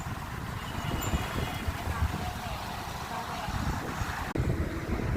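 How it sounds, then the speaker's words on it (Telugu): Strong wind blows steadily through trees outdoors, a loud, constant roaring rush with buffeting rumble against the microphone and one brief dropout near the end. "ఫుల్గా గాలి వస్తుంది"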